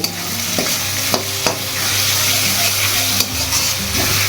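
Spice masala frying in oil in a pan while it is stirred, a loud, close, continuous sizzle with a low hum and a few sharp spoon knocks against the pan.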